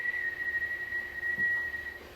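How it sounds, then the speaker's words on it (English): A faint, steady whistled tone holds one pitch for about two seconds against a quiet background. "So if I were to whistle"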